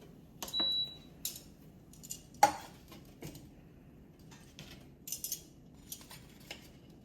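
Turkey bacon being taken out of a Power XL air fryer, heard as sparse light clicks, clatters and metallic taps of tongs and basket against a quiet kitchen background.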